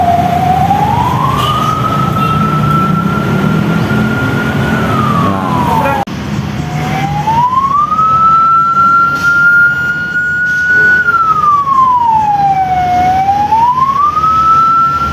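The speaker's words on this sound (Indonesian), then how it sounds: "Nah seperti nada ambulans seperti ini membawa jenazah ya." A loud, close ambulance siren, the slow tone used when carrying a corpse, wails up, holds a steady high tone, then sweeps down, repeating in a long, unhurried cycle.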